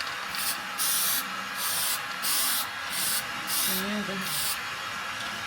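Close spray painting of a bracket for a Nissan 350Z bumper: repeated bursts of aerosol hiss in a steady rhythm, with brief low voices in the background.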